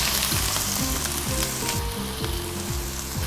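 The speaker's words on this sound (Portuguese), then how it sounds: "Agora então, vamos dourar a cebola." Onion browning in olive oil in a hot wok, a dense continuous sizzle and crackle with a rapid repeating scrape of a utensil tossing the pieces, close and loud throughout.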